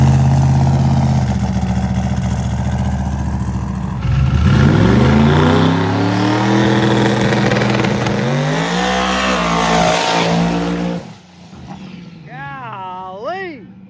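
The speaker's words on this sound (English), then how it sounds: "Now that's a burnout right there." A car does a burnout at a drag testing event, its engine revving hard and rising in pitch, loud and sustained for about ten seconds before cutting off, followed by voices talking nearby.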